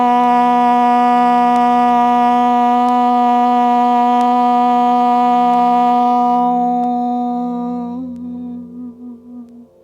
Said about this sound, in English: end our practice with a single chant of Om